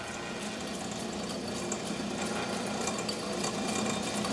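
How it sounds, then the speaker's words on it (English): A diamond grinder sharpening a blade runs as a steady, continuous grinding whir at close range, unbroken throughout with no voices. "The diamond grinder makes it real nice, makes it a lot easier."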